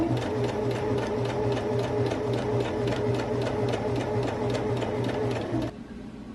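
A sewing machine stitches along a fabric face mask with a filter pocket, running in a steady, close, continuous whir with a rapid needle rhythm for several seconds before it stops and leaves a quieter hum.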